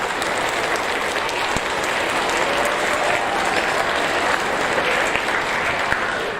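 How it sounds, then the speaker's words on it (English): Sustained audience applause for sixth graders at a school awards ceremony, dense steady clapping from a crowd filling the room throughout. "8 6th graders, let's give them a round of applause"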